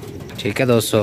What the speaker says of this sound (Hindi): अच्छे अच्छे कबूतर मौजूद हैं